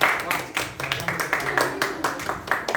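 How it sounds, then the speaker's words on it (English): An audience at a youth leadership meeting applauds youth leader Siddharth Manoj, brisk clapping from a small group with uneven bursts, close and moderately loud. "Can I have a thunderous round of applause for him once again?"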